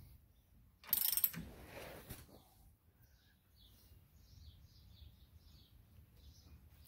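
Ratchet tightening a steering box skid plate bolt on a Jeep TJ, a brief burst of close mechanical clicking followed by quiet with faint background chirps.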